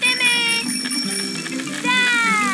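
A cartoon bicycle bell rings bright and clear in two bursts, one at the start and another near the end, with a brief voice in between.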